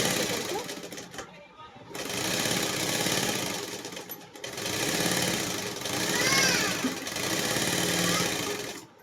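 Sewing machine stitching fabric, a steady motor buzz with rapid needle rattle that runs in bursts separated by short pauses, up close and fairly loud.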